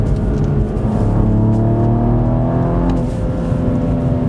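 A BMW M135i's petrol engine revs loud and close, its deep rasp rising and holding steady with a brief dip before surging again, with no talking over it.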